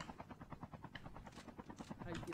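A helicopter in the video game Call of Duty Mobile thumps with a fast, steady rotor beat at low volume while people talk over it.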